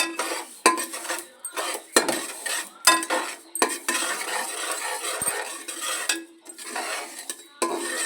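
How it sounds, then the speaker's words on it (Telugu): Sesame seeds dry-roasting in a hot pan for laddus, stirred with a metal spoon that scrapes and clinks against the pan in repeated strokes over a soft, steady crackle, close and fairly loud, with no talking. "తరువాత 1/2 కప్పు నువ్వులు వేయించుకోవాలి"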